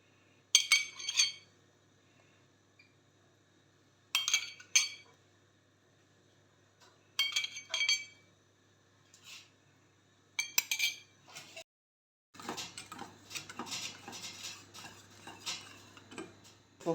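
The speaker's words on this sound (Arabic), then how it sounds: "وهنا راني نخلط فيها، هي بدات تعقد" A spoon stirs a thickening coffee and honey mixture for a semolina sweet, sounding as several short bursts of bright metallic clinking against the vessel, then a longer run of continuous scraping and clinking near the end.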